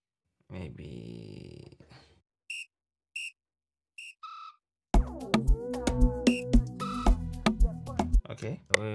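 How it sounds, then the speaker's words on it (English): In an FL Studio amapiano beat, a whistle sample sounds as short high blips and a few brief tonal hits, then the full groove enters with drums and other elements playing loudly together. "And add this whistle."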